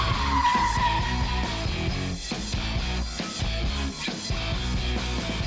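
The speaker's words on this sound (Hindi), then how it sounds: "ये ड्रिफ्टिंग के लिए कार है।" A drift car slides with sustained tire squeal and skidding over a steady engine roar, loud and continuous with brief dips as the tires grip and break loose again.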